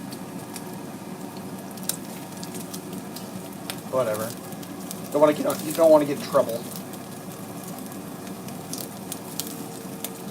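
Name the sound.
bacon fat chunks frying in a pan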